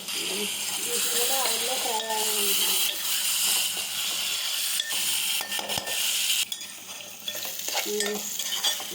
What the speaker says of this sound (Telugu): నానబెట్టుకున్న పచ్చి శనగపప్పు, వీటి కూడా ఆయిల్లో ఫ్రై అవ్వనివ్వాలి